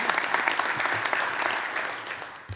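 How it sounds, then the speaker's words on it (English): Ceremony audience applauding at a university presidential investiture, a steady wash of many hands clapping that holds for a couple of seconds and begins to thin. "I would like to lead a real quick round of applause"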